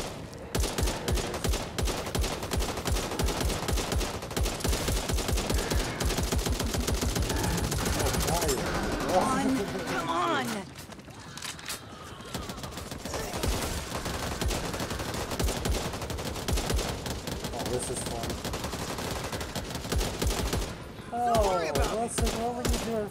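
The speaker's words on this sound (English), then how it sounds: "I was just shooting zombies with my daughter" Rapid, loud gunfire rattles almost nonstop while shooting zombies in Back 4 Blood, bursts of automatic fire broken by a short lull, with voices talking over the shooting.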